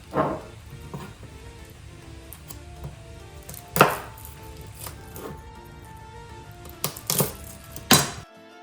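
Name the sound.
chopping garlic with a knife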